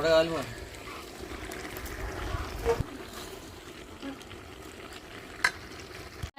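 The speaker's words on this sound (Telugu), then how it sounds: "చికెన్ కర్రీ చికెన్ అయితే ఉడుగుతా ఉంది కదా" Chicken curry with rice cooking in a pot, with a bubbling, sizzling sound and occasional stirring knocks while a person talks over it.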